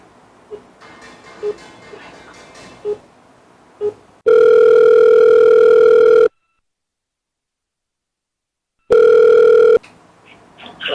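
Telephone ringback tone heard while placing a call: two loud, steady electronic rings separated by a silent gap, with faint taps and handling noises before them.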